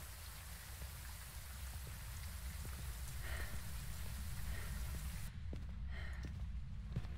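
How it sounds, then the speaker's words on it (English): Steady rain pattering down in a video game, a dense hiss of drops with low rumble underneath, continuous and fairly close, no voices. "Oh, it's raining, dude."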